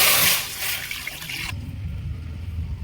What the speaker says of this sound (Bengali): কড়া বসিয়ে দিয়েছি কড়ার মধ্যে আমি জল দেব